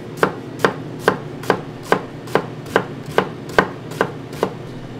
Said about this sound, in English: Now you have basically a chopped onion